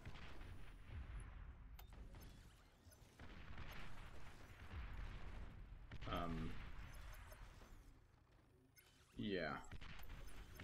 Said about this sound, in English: as soon as that one guy comes into range of my artillery tanks,